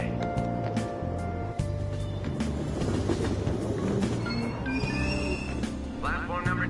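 A subway train rumbles and clatters steadily at Aoyama Ichome station in Persona 5 Royal, with tonal chimes and a station announcement voice over the rolling noise.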